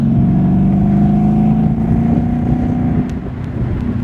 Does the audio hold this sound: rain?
no